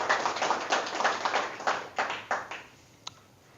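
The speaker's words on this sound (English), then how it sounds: "please give a round of applause to our students." A small lecture-hall audience claps for students before a philosophy talk, with thin, uneven claps that swell and fade in loose waves and taper off toward the end, with one sharp isolated tap near the close.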